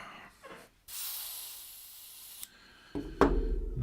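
An airbrush or spray can hisses steadily onto a scale model for about a second and a half, close and fairly loud, followed by brief handling clatter.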